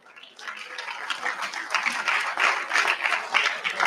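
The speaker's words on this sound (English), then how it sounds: "we should really support them with a great applause" Audience applause in an auditorium at a national student science camp, swelling from quiet to a full, steady roar of many hands, with no voices above it.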